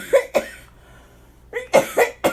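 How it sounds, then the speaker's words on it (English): Two sharp coughs, a brief quiet pause, then a quick run of four more harsh coughs, close to the listener. "Back to the coughing."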